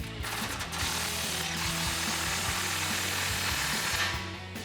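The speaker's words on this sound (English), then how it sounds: "go back to that clamp on the crossover pipe and take a 15mm socket to tighten that down." A ratchet with a 15mm socket tightens an exhaust clamp on a crossover pipe under a Sierra 1500, giving close, rapid, continuous clicking throughout.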